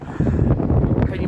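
Strong wind buffets a camera microphone outdoors near the remains of the Wesel railway bridge over the Rhine, a loud low rumbling roar that fills the clip with gusty fluctuations.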